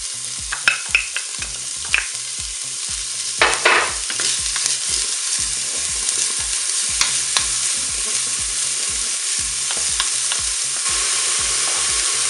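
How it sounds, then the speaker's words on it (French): Bacon lardons fry in a Cookeo electric pressure cooker pot, a steady close sizzle with repeated scraping stirs and clacks of a utensil against the pot, no voices. "je vais commencer par faire revenir les lardons"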